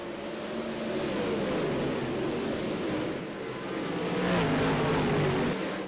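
Dirt track race cars roaring around the oval under green-flag racing, a continuous dense engine drone that swells and fades as the pack passes, loud and steady throughout.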